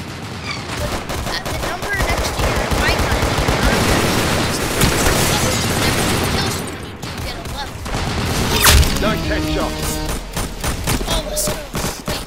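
Dense rapid gunfire from the Roblox shooter game Arsenal, with overlapping automatic bursts and single shots firing continuously throughout, loud and close, with a sharp heavier blast near the end.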